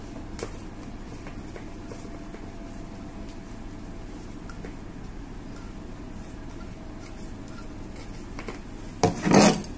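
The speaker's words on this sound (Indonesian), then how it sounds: "Kita kencangkan pakai kunci Inggris." An adjustable wrench tightens an oxygen flowmeter regulator onto a cylinder, with faint metallic scraping and rubbing throughout, then a short loud grinding rasp of metal near the end.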